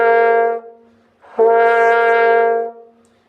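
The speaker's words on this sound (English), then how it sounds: "some of you probably have heard people practicing air attacks" Brass player practicing air attacks: two sustained tones, each preceded by a soft rush of breath before the note speaks, the second with an audible burst of air at its onset, close and clear.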